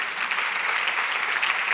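Audience at a gala giving a hearty round of applause, dense, even clapping sustained throughout, fairly close and with no voices over it.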